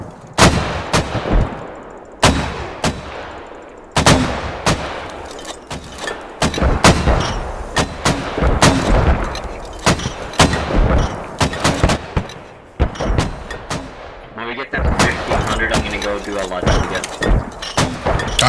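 A heavy mortar barrage in the military shooter Squad, with sharp booming launches repeating at an irregular pace for many seconds, loud and close, and players talking between shots.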